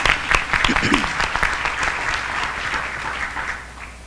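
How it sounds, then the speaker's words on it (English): An audience at an education accountability event breaks into warm, dense applause for a school principal, a sustained wash of clapping that slowly tapers off, with a voice faintly present beneath it. "Let's give her a round of applause."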